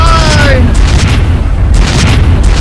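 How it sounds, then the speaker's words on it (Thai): A deep booming cannon blast in a video game rumbles under a busy game soundscape, with a falling whistling tone at the start and continuous low rumble. "ปืนใหญ่อันนี้ยิงไป"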